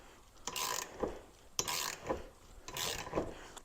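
A part of a SeaDoo jet pump being unscrewed during a rebuild gives three separate bursts of ratcheting, scraping metal turns, each lasting about half a second, close and alone with brief pauses between.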